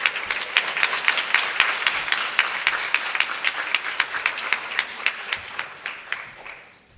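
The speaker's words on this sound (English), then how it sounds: "One more round of applause for everybody" Sustained audience applause from a debate-event crowd, dense and steady with sharp individual claps, fading toward the end, with no talking over it.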